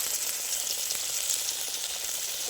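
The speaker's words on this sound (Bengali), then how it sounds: "মিশ্রণটা ভালো করে আমি মিশিয়ে নিচ্ছি" A spice paste mixture for a pointed gourd and prawn dish fries in a pan, giving an even, continuous close sizzle with no pauses.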